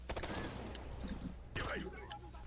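Bursts of rapid gunfire from the tactical shooter Ghost Recon Future Soldier, loud and close, with a volley at the start and another about midway, and voices speaking underneath.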